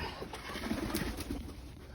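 Soft, low pigeon cooing murmurs continuously under a faint background hum, gentle and steady.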